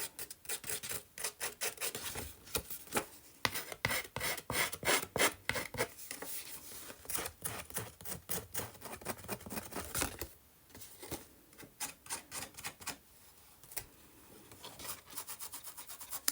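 Paper edges being rubbed to distress them give a near, dry scraping and rasping in quick repeated strokes, bursts of friction with short pauses between, quiet and without talk.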